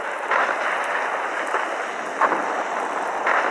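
Acid rain pours down in a video game level with a volcano, a steady, fairly loud hiss of falling drops with a few brighter spatters and no voices.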